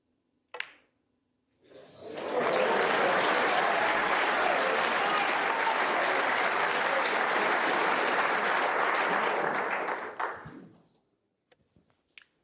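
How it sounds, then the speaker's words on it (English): A snooker World Championship crowd breaks into loud, dense applause that swells quickly, holds steady for about eight seconds, then dies away into near silence. "They've been cheering Mark Selby on to make it close"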